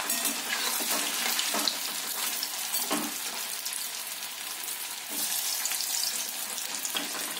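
Chicken cheese balls frying in hot oil, a dense continuous sizzle and crackle with a few stirring bumps, close and fairly loud, no voices.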